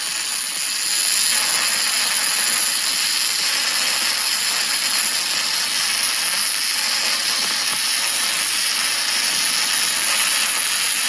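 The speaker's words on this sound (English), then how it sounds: "That's the sound of your spray transfer." MIG welding in spray transfer mode on a Caterpillar grapple bucket gives a steady, loud, hissing crackle that holds evenly for about ten seconds, bright and close, with no voices.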